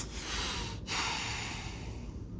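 A person sniffs sharply through flared nostrils, deliberately imitating a snorting huff. It is one forceful, breathy intake, close and fairly loud, with a brief break partway through and no speech.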